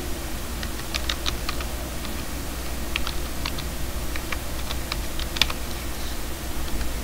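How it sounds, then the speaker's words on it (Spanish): A password being typed on a computer keyboard: irregular clusters of crisp key clicks over a steady low electrical hum, continuing for several seconds with no voices. "Escribes tu contraseña."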